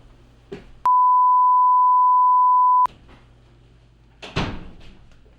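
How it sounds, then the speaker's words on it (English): A steady, loud censor-style beep holds one pitch for about two seconds, with faint background noise and a clattering knock before and after. "I just put the little beep thing instead."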